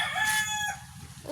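A rooster crows once, a brief, bright call that trails off over a low background rumble.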